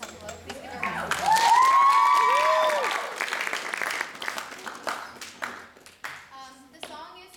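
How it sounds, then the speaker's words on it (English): Audience applause at a high school senior theatre recital, a burst of clapping from the crowd that swells early and then tapers off, mixed with a sustained singing or sung tone in the middle. "Please give her a round of applause."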